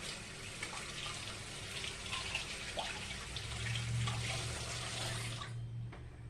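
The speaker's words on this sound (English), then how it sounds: "I'm going to wash my hands here." Tap water runs steadily while hands are washed at a kitchen sink during cinnamon roll baking, a broad gushing hiss that swells slightly before cutting off near the end.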